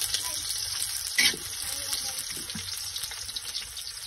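Garlic and onion sauté in a hot pan, crackling with a bright, continuous sizzle. A brief louder knock or stir sounds near the middle.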